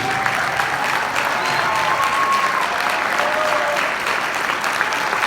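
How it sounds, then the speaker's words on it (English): Steady, loud applause from a sizable crowd at a school marching band concert, continuous and even throughout with no pauses. "Students, you need to clap for these guys too."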